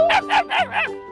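A dog gives four quick, close barks in a rapid row, short and sharp, with nothing else heard.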